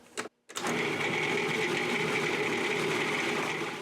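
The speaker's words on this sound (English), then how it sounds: "For the moist ingredients, just puree them." A blender purees the moist ingredients for vegan mocha brownies. After a brief start and a short stop, a loud, steady motor whine runs continuously up close.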